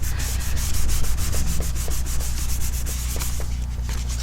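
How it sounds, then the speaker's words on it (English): A folded paper greeting card pressed flat and rubbed firmly by hand, giving a steady, close, continuous scraping rub that runs without pause, with no voices. "Just going to turn it over and give it a good press down"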